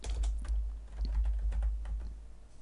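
Computer keyboard typing in a steady run of quick keystrokes, close and clear, while a Microsoft Access query is named and saved, with a low hum underneath and no talking.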